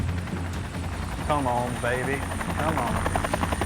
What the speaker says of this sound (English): I can hear a Huey.